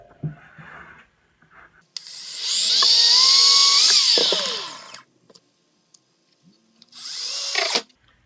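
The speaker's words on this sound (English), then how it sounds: "And now I'm just going to drill a pilot hole." A power drill bores a pilot hole into a 2x4 board during a shoe rack build, with one long, loud, close whine lasting about three seconds, then a second shorter burst after a brief pause, with no talking.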